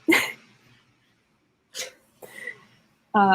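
A single sharp sneeze bursts out near the mic, followed by a couple of short breathy sounds and then a voice.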